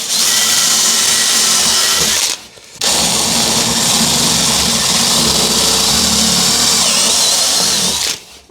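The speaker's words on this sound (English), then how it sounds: "Yeah, I've got a 9mm drill." A power drill with a 9mm bit that is not very sharp whirs loudly and continuously, pausing once briefly before starting up again and running steadily until it stops near the end.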